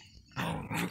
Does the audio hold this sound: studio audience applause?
no